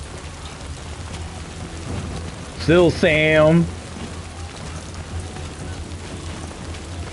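Steady rain with a broadband thunderstorm wash plays throughout a rainy scene in the video game Death Stranding 2, holding at a constant level while a brief spoken line cuts in near the middle.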